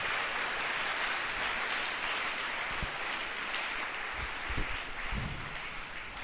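A church congregation applauds in a sustained, moderately distant wash of clapping that holds steady throughout, with a few louder claps standing out.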